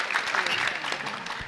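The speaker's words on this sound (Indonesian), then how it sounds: "Sekali lagi tepuk tangan untuk beliau." Short burst of crowd clapping at an Islamic religious gathering celebrating a congregation's anniversary, a brief dense patter of hands mixed with voices over about a second and a half.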